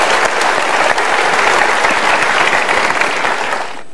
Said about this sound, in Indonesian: Kita berikan tepuk tangan untuk tiga orang ini.